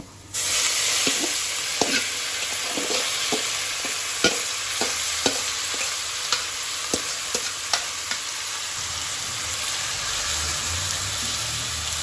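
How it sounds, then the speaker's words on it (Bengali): Bottle gourd greens fry with onion, tempering spices and potato in a pan, giving a continuous close sizzle. A spatula scrapes and taps in a loose, repeated rhythm as the greens are stirred. "এটাকে খুব সুন্দরভাবে ফোড়নের সাথে মিশিয়ে খুব ভালোভাবে নাড়াচাড়া করে ভাজা ভাজা করে নিতে হবে"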